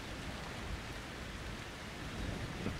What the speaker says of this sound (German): Oh, jetzt sind wir wieder im blutigen Regen.